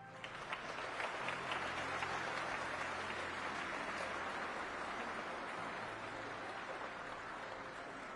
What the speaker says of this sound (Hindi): पूरा हॉल तालियों की गड़गड़ाहट से गूंज रहा था